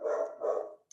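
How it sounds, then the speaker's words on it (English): Dogs barking indoors, two muffled barks in quick succession that sound somewhat distant and moderately loud, followed by a brief faint yip. "That's my dogs."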